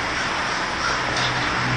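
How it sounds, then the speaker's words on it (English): A large gathering of crows fills the surrounding trees, their overlapping caws forming a steady, dense wash of calls that carries on without a break. "Every tree is filled with crows"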